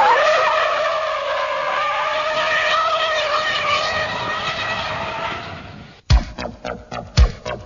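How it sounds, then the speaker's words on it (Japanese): A stock Mazda RX-7 FC turbo drifts through a steep downhill hairpin, its tires squealing in a long, loud, wavering howl with engine noise underneath, then cut off abruptly by thumping music. "テールが出たらすかさずパワーをかけ、ドリフト姿勢をコントロール。"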